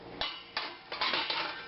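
A spoon clinks against the side of a pot of homemade laundry soap being stirred, a few sharp metallic taps spaced irregularly over soft background noise.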